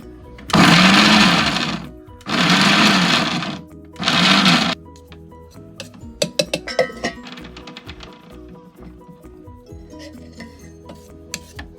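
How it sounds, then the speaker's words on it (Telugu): A mixer grinder whirs in three loud, close bursts as it grinds half a kilo of well sun-dried tomatoes, followed by clattering and knocking of the jar and lid. "ఇప్పుడు నేను వీటిని మిక్సీ చేస్తాను."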